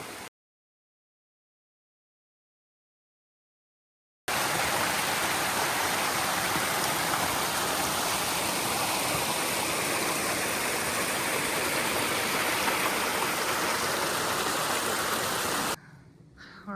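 A creek along the Appalachian Trail rushes steadily and fairly close in a broad, even wash of flowing water, after a few seconds of silence at the start and a cut just before the end.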